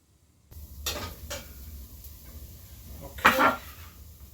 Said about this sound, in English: Let me get these mushrooms in.